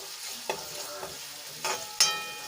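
Onions sautéing in a pan until light pink for a boiled potato curry, a steady soft sizzle broken by a few brief stirring scrapes and clinks, close and alone with no talk.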